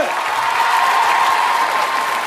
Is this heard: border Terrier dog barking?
no